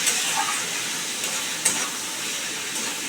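Turmeric and chilli powder being stirred into a hot pan for a Bengali pumpkin bori dish, giving a steady broad sizzle with a few faint scrapes, close and alone with no talk.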